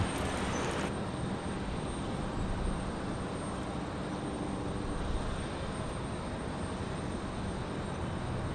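Southwest Airlines jet departing from Raleigh-Durham, a loud, continuous broadband engine roar that stays strong and steady throughout, heard alone.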